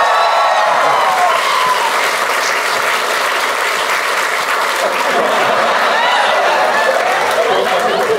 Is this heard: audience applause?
yes